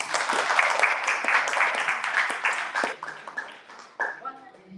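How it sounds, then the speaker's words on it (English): Audience applause at an app showcase and closing ceremony, steady crowd clapping for about four seconds before tapering off as a voice starts speaking. "Give them another round of applause."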